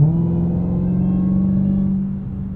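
A Dodge Challenger Hellcat Black Ghost, an 807 hp supercharged V8, roars under heavy throttle with a deep steady drone that holds loud for about two seconds before easing slightly.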